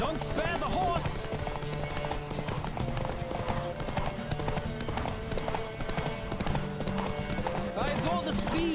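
A race in The Witcher 3 brings steady, driving hoofbeats from galloping horses, close and loud. Game music plays beneath them, and riders call out and a horse whinnies over the pounding.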